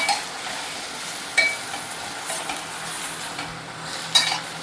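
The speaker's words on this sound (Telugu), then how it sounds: "ఇప్పుడు మనం టొమాటో ముక్కలను వేసుకోవాలి. వేసుకున్న తర్వాత ఇలా కలిపేసుకోవాలి." A spoon stirs tomato pieces into a frying broad-bean (chikkudukaya) masala curry, with a soft steady sizzle underneath and intermittent scrapes and clinks of the utensil against the pan, close and moderately loud.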